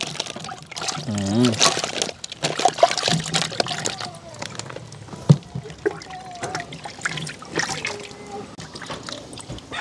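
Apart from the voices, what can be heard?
washing fruit with running water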